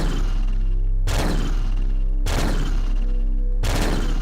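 Gunfire in the video game Future Noir, three loud short bursts of rapid shots at regular intervals over a constant low droning background.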